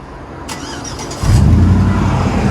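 A 2009 GMC Sierra with a 5.3 V8 and Flowmaster Flow FX exhaust cranks and fires up about halfway through, settling into a loud, deep idle rumble close by.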